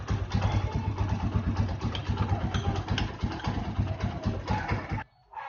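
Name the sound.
Honda TMX motorcycle engine idling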